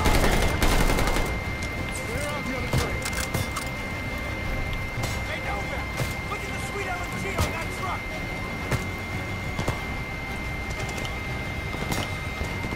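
Rapid bursts of SVT-40 and PPSh gunfire crackle in Call of Duty Vanguard, with dense repeated shots under occasional talk and game ambience.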